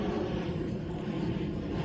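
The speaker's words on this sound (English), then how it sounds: "big old airplane going behind us" A large airplane passes overhead, its steady low engine roar filling the air continuously and fairly loudly, with no talk over it.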